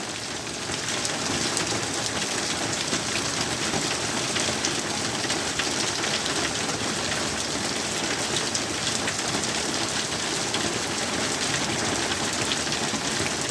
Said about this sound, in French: La foudre, plus pluie... ça fait trop de bruit.